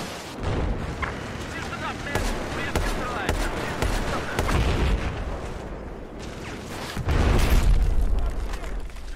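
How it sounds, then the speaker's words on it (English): Explosions rumble through a Battlefield 4 match, with repeated booms and gunfire crackling throughout and a heavier, louder blast near the end, while players talk over the din. "He blew it up."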